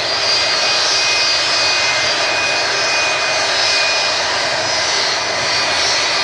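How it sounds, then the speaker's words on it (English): Airliner with Rolls-Royce RB211 engines arriving from Ibiza at Manchester Airport, a loud, steady jet roar with a whining tone held throughout, close and continuous with no talk. "This aircraft in from Ibiza."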